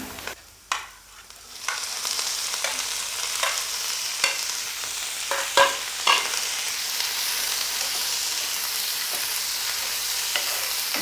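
Ooli fish being added to a pan of sautéed onions and urad dal, frying and sizzling steadily with a few sharp stirring clatters and spatula scrapes, close and continuous with no talk.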